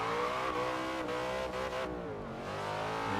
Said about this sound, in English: Love the sound of the engine. It sounds so mean.